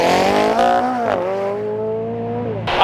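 McLaren 720S sports car on a race track, its high engine note climbing and dropping through shifts as it passes close by, with a brief tire squeal and a loud surge at the end.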